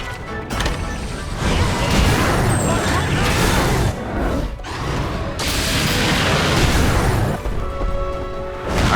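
Heavy crashes and booming impacts from a monster's breath blast attack in the battle game Monster Hunter Stories 2: Wings of Ruin. They form a loud, dense, near-continuous barrage, dipping briefly twice before surging again.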